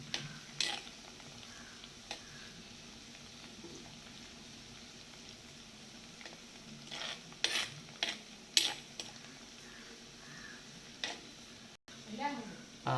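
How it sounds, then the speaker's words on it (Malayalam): Chopped ginger sizzles in hot oil for a king fish curry, a soft steady frying hiss broken by scattered clinks and scrapes of stirring in the pan. "ഇതിലേക്ക് അരിഞ്ഞു വെച്ചിരിക്കുന്ന ഇഞ്ചി ഒന്നിടട്ടാം"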